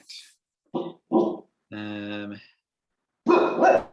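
Puppies bark nearby during an online video call, giving a few short yips and one longer drawn-out bark, separated by brief silences.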